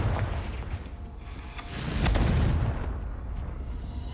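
Confringo blasting spell in Hogwarts Legacy detonating as a deep booming explosion with a rumbling burst that swells and fades over a few seconds, no talk.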